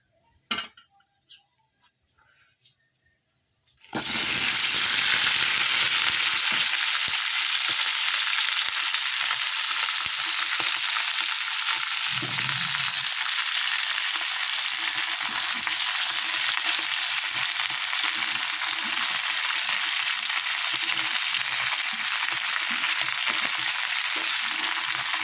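Panch phoron and green chilies dropped into hot oil, a sudden loud burst of sizzling after a few quiet seconds with faint clinks, then a dense, steady crackling fry continuing close up.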